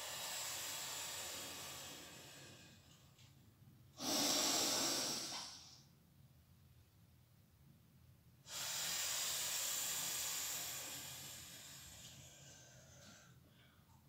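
Slow, deep qigong breathing, with a long audible breath around the middle and another sustained breath later. Both are close and airy, separated by quiet stretches.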